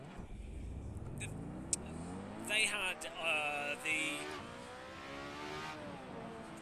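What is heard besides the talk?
Lotus 125 race car engine in video game Assetto Corsa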